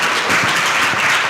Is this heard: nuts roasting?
no